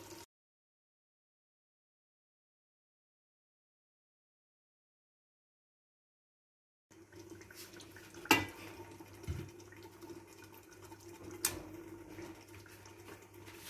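Water runs into a pressure cooker pot holding beef pieces and oil for nihari. A quiet splashing pour comes in after a long stretch of silence and continues softly, with a couple of brief knocks against the pot.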